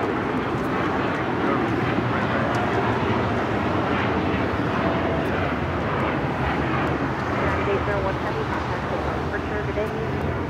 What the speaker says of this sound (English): Takeoff is United Airlines Flight 801, taking off to Hong Kong on the 787-9 Dreamliner